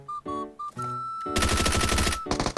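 A rapid automatic burst of gunfire from PUBG Mobile rattles loud and close for about a second, after a few short tonal game sounds, then breaks off into scattered shots.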